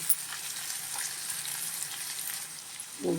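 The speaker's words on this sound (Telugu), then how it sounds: "ఇదిగోండి ఉల్లిపాయ ముక్కలు ఉన్నాయి కదా, ఇవి కూడా వేసేస్తాను. బాగా వేగనిద్దామండి." Chopped onions frying in a pan for egg masala curry, an even, moderately quiet sizzle that holds steady, ending in a short knock.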